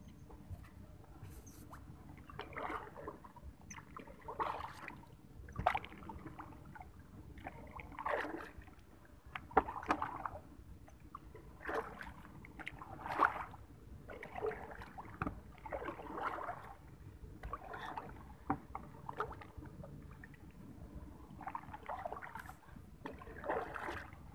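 Paddle strokes from a raft on water while out casting for snakehead fish: soft, irregular splashes and dripping water repeat every second or two, close by, with no voices.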